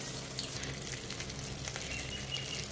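Rice grains tossed with salt and turmeric dry-fry in a pan for a Bengali muri ghonto dish, making a dense, continuous crackling hiss with faint grainy patter, close up and without talking.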